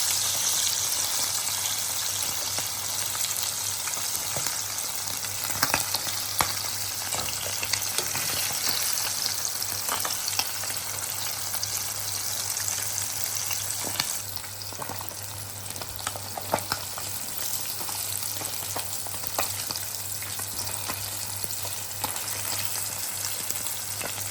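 Sardine fish frying in a pan sizzle with a steady, bright crackle of hot oil, broken now and then by soft scrapes and turns, with a low hum beneath the frying.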